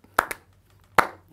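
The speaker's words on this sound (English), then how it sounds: "No, first bit. No. Slow clap." Three sharp, close hand claps at a slow, uneven pace, two close together and then a pause before the last, with no talk over them.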